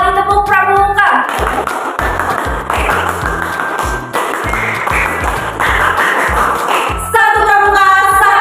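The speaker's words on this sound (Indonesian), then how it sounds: "2 kali tepuk pramuka" A group performs the Indonesian Pramuka scout clap twice, with crisp patterned claps in a steady rhythm over a background bed of sound, and voices or tones come in at the start and the end.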